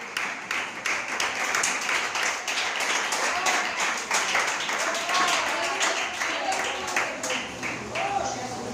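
A church congregation claps loudly and steadily in praise, with dense, sustained applause filling the room and voices mixed in underneath.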